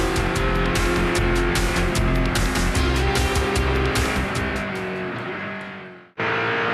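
Race cars of the Rolex Sports Car Series at full speed at Barber during the 2004 Porsche 250, a loud sustained engine roar with shifting tones that fades briefly before cutting off abruptly.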